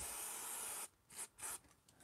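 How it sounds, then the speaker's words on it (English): Aerosol case lubricant sprays onto a palm during AR-15 5.56 cartridge reloading: one steady, close hiss lasting under a second, then stopping. A few short, softer puffs of hiss follow. "So I'm going to spray the palm of my hand,"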